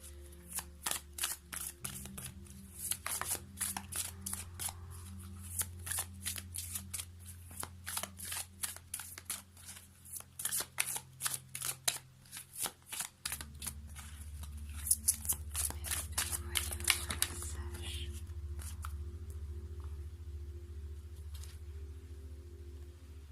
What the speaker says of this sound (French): on va terminer avec une carte Murmure de Ganesh pour cette journée de mardi